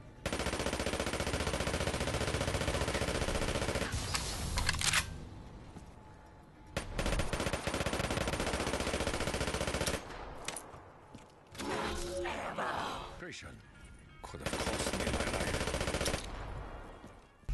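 PPSh-41 submachine gun fire in Call of Duty WW2 comes as several long, dense bursts of rapid automatic shots. Short pauses separate the bursts, and there are a few quieter gaps with mechanical clicks.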